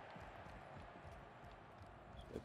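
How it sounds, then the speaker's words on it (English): Footsteps in a shooter video game, a steady run of soft rhythmic thuds over dense game background noise, fairly faint and continuous throughout. "Behind me, hear footsteps"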